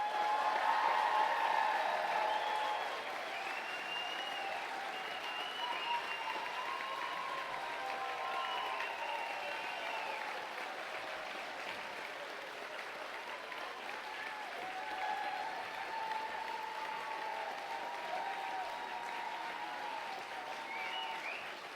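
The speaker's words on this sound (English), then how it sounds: "I'd like you to acknowledge their achievements by giving them a round of applause" Graduation ceremony audience at SOAS giving graduates a round of applause, a long, steady roll of many hands clapping heard from within a large hall, with faint tones and murmurs underneath.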